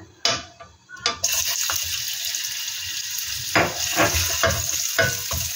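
Ginger sizzles in a little hot oil for Taiwanese-style basil chicken. The crackle holds steady after a couple of sharp clatters at the start, with stirring scrapes that swell near the end.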